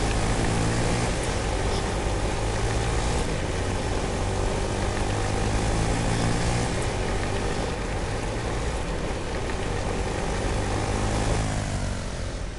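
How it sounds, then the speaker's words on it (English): A propeller airplane drones overhead in a shooter video game, a loud, continuous engine roar that fills the whole stretch without letting up, with no talking over it. "there is an airplane in the sky though"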